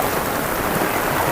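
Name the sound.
heavy rain falling on a rooftop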